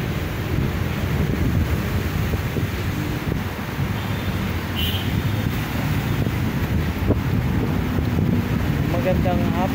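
Sea waves and wind on Manila Bay in the late afternoon, a continuous broad rushing wash with wind buffeting the microphone, loud and steady throughout.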